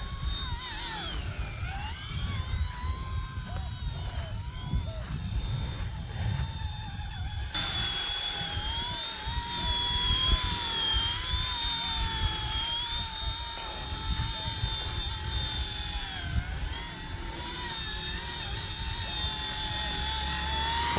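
An RC ERA 186C PRO radio-controlled helicopter flying forward at full throttle in strong wind, giving a loud, continuous high-pitched rotor and motor whine that rises and bends in pitch, with a rough gusty rumble underneath and no talking.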